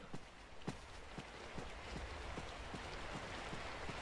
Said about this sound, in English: Yes, the rain starts.